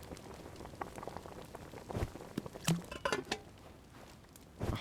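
A pot of stew with finely cut vegetables and a whole onion bubbling on the heat, steady close popping and patter of boiling liquid with sharper bursts now and then.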